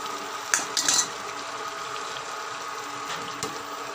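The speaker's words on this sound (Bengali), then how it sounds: "সব আলু দিয়ে এবার একটু এটা নেড়ে দিলাম।" A spoon stirs spicy chicken with potatoes in a pan on an induction cooktop, with a few light metallic scrapes and clinks over a soft steady sizzle.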